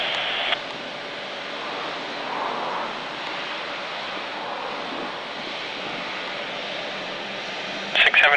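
A heavy military jet takes off on runway 29 at RAF Mildenhall, a broad, steady roar of engine noise that holds at an even level for several seconds before a brief rougher burst at the end.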